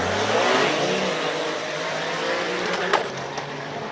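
A Ferrari race car at a Cape Town hillclimb event, its engine roaring and revving loud and close, with a sustained throaty tone and a few sharp higher bursts near the end as it accelerates away.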